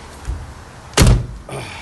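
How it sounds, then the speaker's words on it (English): A DeLorean time machine replica's car door is slammed shut with one loud, heavy thud, after a softer knock and before a lighter clunk, heard close up in a workshop. "The door won't close."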